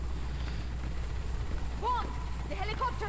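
A helicopter in Quantum of Solace on PS2: a low, steady rotor-like drone rumbles throughout, with brief chirping and whooshing effects layered on top and a voice speaking partway through.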